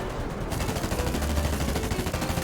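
Automatic gunfire in the FireFront mobile shooter game: a rapid, even burst of close, loud shots that runs without pause, with no voices.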